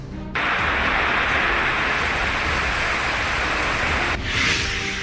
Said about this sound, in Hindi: पहाड़ों के साथ साथ मैदानी इलाकों में बारिश ने त्राहिमाम मचा रखा है।